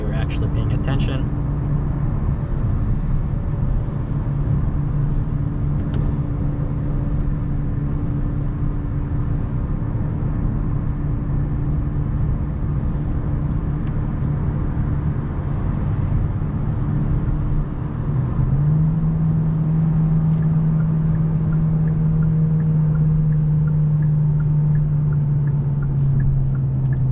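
A 2022 Hyundai Sonata with a 1.6-liter engine on a test drive, a steady low cabin engine hum and road rumble with a rising tone near the end as revs climb, and a voice talking over it.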